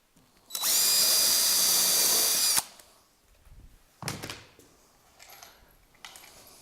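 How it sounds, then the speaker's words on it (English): A power drill spins a carbide-tipped Dymar drill bit into wood for a cabinet-door drying rack, one steady high whine lasting about two seconds. A few close clunks and knocks follow. "So I can also set the depth on these drill bits."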